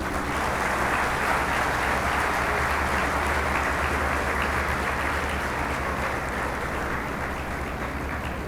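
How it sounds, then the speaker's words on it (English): Sustained audience applause fills a graduation ceremony hall, a dense, steady wash of clapping from a large crowd lasting throughout with no voices standing out. "May we have a big round of applause"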